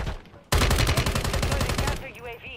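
Rapid sustained gunfire in the video game Warzone, a loud dense burst of repeated shots lasting about a second and a half before trailing off, with a player's voice heard around it.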